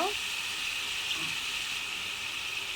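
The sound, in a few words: potatoes and eggplant frying in oil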